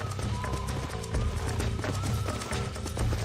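Horse hooves clip-clopping in a running rhythm with a neigh, from the Red Dead Redemption video game, loud and close, with background game sound.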